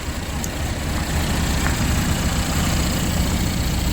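A demo derby car's engine idles steadily, a loud, constant low rumble and roar that holds with little change, with no talking.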